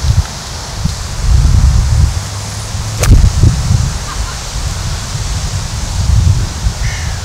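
Wind blows across an open golf course, a loud broadband rush buffeting the microphone in uneven gusts with one sharp swish partway through.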